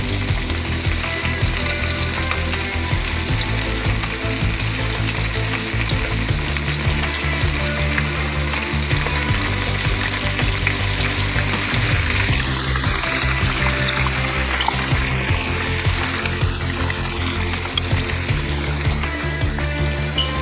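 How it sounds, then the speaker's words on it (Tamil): Restaurant-style gluten-free chicken 65 pieces deep frying in hot oil, giving a loud, continuous, dense sizzle and bubbling that holds steady for the whole stretch with no voices. "இப்போ நான் எல்லா சிக்கனையும் போட்டு பொரிச்சு எடுக்கிறேன்."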